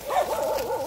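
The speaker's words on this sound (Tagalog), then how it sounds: "yan aso" A dog barks up close near a fishing spot, one loud, wavering, whining bark that rises and falls in pitch, with no talk over it.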